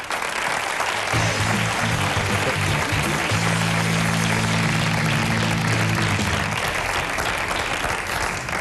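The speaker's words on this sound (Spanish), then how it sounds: "Un fuerte aplauso." Studio audience applause on a Spanish late-night television show, a steady broadband patter of many hands clapping that holds evenly for several seconds, with a faint musical tone underneath.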